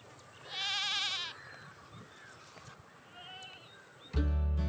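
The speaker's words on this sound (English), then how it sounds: "A goat typically has horns that arch backward, a short tail, and straighter hair." A goat bleats once in a loud, wavering call, then softer calls and background farm ambience follow, with a sudden loud noise at the very end.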